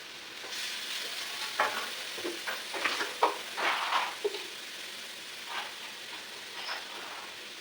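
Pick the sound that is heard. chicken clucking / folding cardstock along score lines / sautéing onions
sautéing onions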